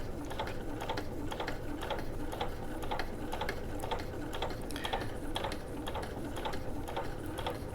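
A sewing machine back stitching slowly along a welt pocket seam, a soft even run of rapid needle ticks pulsing at a regular slow rhythm, close and alone without speech.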